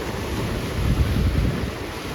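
Water rushes loudly into a Ratneshwar Mahadev temple amid high waves, a dense continuous roar that swells slightly in the middle, close and unbroken with no voices.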